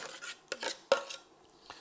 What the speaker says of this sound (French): C'est simplement passer la louche sur le fond du tamis pour faire couler le liquide afin de pouvoir récupérer le maximum de produit